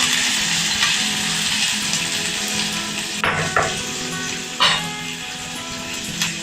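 Onion and curry leaves sizzle in hot oil after mustard seeds have popped, a loud continuous hiss close by with a few sharp stirring clinks of a pan.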